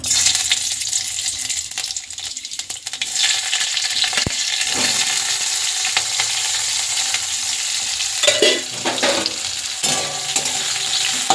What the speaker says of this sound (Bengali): 5 ফোড়ন, লঙ্কা, পেঁয়াজ কড়াতে দেবো